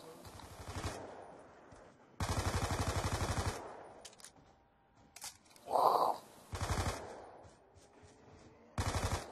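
Bursts of automatic gunfire in Black Ops 2 Zombies on the Farm map, several sustained rapid volleys separated by short pauses, with a brief higher-pitched zap in the middle.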